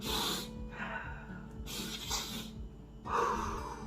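A voice imitates heavy breathing and sniffling in three loud, breathy bursts separated by short pauses, close to the listener.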